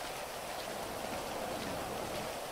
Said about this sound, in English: it's raining and wet